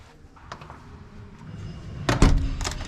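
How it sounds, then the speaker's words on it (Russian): Faint shuffling and light clicks lead up to a single loud thud as a hotel room door in a resort hotel in Tekirova, Turkey, is pushed shut, followed by a brief rattle. "Дверь захлопнули."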